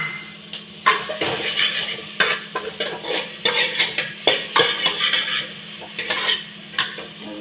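Green chillies tossed into a hot pan, sizzling steadily while a utensil stirs and scrapes with repeated clinks and knocks, close and fairly loud, in a home kitchen with the chimney fan off.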